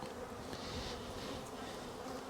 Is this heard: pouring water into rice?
no